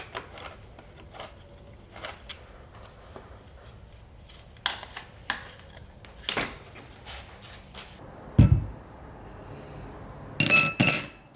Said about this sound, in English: removing the shock from your bike with the appropriate hex wrenches